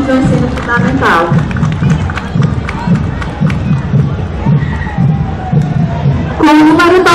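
Crowd at an outdoor school parade for Brazilian Independence Day cheering and clapping for marching eighth-grade students, a lively mix of clapping, chatter and shouts, with an amplified announcer voice at the start and end.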